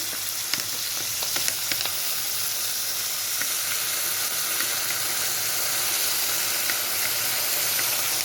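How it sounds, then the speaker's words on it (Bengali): Chopped capsicum, onion and garlic fry in oil for egg chilli, a dense, even sizzle and hiss that holds steady throughout, close up, with faint stirring clicks. "ক্যাপসিকাম, পেঁয়াজ আর রসুনটাকে কুচি করে ফ্রাই করা হচ্ছে হালকা"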